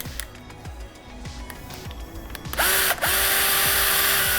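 Battery-powered drill with its clutch slipping in a rapid run of ratcheting clicks, then the motor bursting into a loud, steady spinning whine up close that holds to the end.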